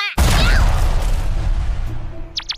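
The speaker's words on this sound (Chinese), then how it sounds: "由于爆炸声用到的炸药多了一点，不小心炸塌了" A staged explosion effect for a comedy stage show, a loud sudden boom followed by a long rumbling, crumbling decay, ending with a few faint high squeaks.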